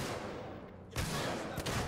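Gunfire in the video game Alien: Isolation, two or three loud bursts of shots in under two seconds, harsh and close, with no talk.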